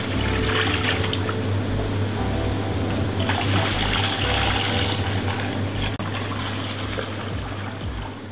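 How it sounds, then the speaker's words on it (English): Milk poured into a VarioCookingCenter cooking vessel for Muhallabia, heard as a continuous, fairly loud rushing pour over a steady low machine hum. "So we will fill in now the milk."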